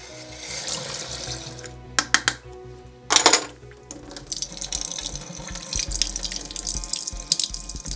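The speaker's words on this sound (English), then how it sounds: "We're going to do a water wash first to wash off some of that black remjet backing." Tap water runs into a sink to rinse the black remjet backing off old Kodachrome film, a steady splashing stream broken by a few louder clatters and gushes, close and alone.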